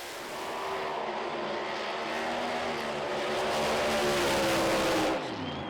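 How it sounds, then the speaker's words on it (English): A Pro Mod drag race car does a long burnout down the track at Santa Pod Raceway, its engine a loud, sustained roar that swells slightly before cutting off near the end. "Freddie burning out to the finish line just to check the shutdown area is okay before he goes and makes a run"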